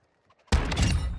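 A single sudden, loud gunshot in a shooter video game breaks a near-silent pause, followed by a sustained rumbling tail that fades slowly.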